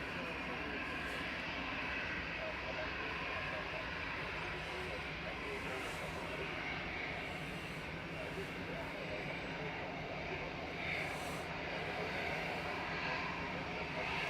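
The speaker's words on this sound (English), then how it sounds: "Lufthansa's just touched down, operated by Lufthansa City from Munich, A320neo" Lufthansa CityLine Airbus A320neo touching down at Manchester Airport, a steady broad roar of jet engines and rushing air that holds throughout at moderate distance.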